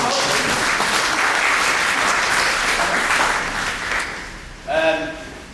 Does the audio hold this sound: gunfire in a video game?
no